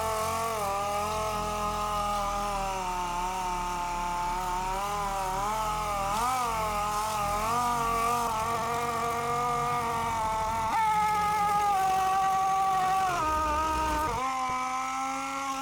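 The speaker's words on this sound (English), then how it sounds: "Start with a medium grit sandpaper to shape the repair." Dried filler on a car bumper is sanded with medium-grit sandpaper, making a continuous motorized whine whose pitch wavers and shifts as the pressure changes, steady and fairly close with no voices.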